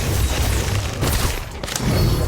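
Sectum Sempra spell cast in a Harry Potter video game, heard as dense booming, crackling combat bursts with a deep low rumble, a brief dip midway, then another forceful surge, loud and close.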